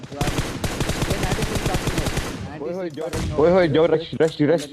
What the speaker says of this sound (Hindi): पाशा ने ग्रेनेड फेंका